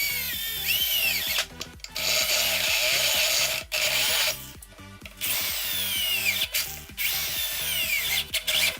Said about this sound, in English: I switch over to a tap drill instead.